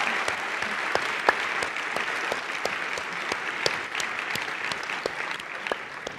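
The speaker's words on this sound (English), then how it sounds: "Let's have a round of applause." Steady applause from a crowd, dense clapping with a few sharper individual claps standing out, continuing evenly throughout.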